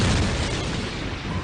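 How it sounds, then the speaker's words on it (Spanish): A deep, rumbling supernova explosion sound effect, a loud sustained boom heavy in low tones that fills the clip and fades only slightly. "Algunas estrellas al morir producen una explosión supernova"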